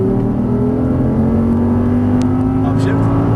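Audi R8 V10 engine pulling hard at full throttle on a racetrack, a loud steady drone of rising engine tones filling the whole moment while a voice speaks over it.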